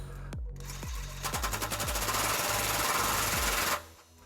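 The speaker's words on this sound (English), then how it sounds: "This is a 22mm socket, and we're going to tighten this while we're pulling outward on the pry bar." A 22mm socket wrench tightens a trailer hitch bolt on a 2003 Lexus LX470, giving a loud, rapid ratcheting rattle that starts after a few separate clacks and runs close and continuous, then stops abruptly near the end.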